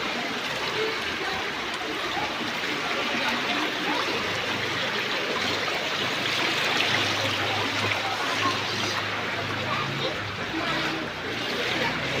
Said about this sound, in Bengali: আপনারা দেখছেন ঘরের ভিতরে জল ঢুকছে।